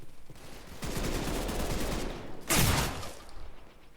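Bursts of gunfire from an unusual weapon in a video game, two noisy rattling volleys, the second sharper and louder, with no talk.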